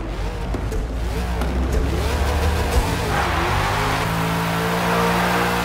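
A 1965 Lotus Type 40 race car with a naturally aspirated 451-horsepower V8 lapping Laguna Seca in Forza Motorsport, engine roaring steadily with shifting pitch through gear changes and a brief tire scrub midway, loud and close.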